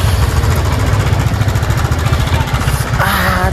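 Motorbike engine idling after starting outdoors in a windy spot, a loud, steady close chugging thrum with even rhythmic pulses throughout, and a brief voice near the end.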